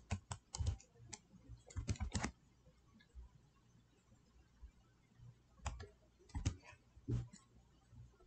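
An email address being typed on a computer keyboard, with bursts of quick, close key clicks separated by pauses and a quiet room between them.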